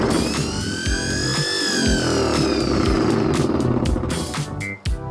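Washing machine motor driving a homemade boat propulsion unit, running loud and close with a steady whine that rises and falls in pitch, plus clattering mechanical rattles.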